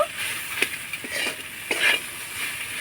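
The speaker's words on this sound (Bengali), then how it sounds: "এবার আমি সব কিছু ভালো করে আলুর সঙ্গে মশলাটা খুব সুন্দর করে কষিয়ে নেব" Potatoes and spices stir-fry in a pan with a steady sizzle under a few sharp scraping strokes of a spatula, close and fairly loud.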